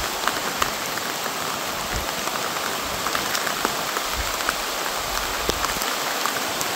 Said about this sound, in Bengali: প্রচুর বৃষ্টি শুরু হচ্ছে, প্রচুর।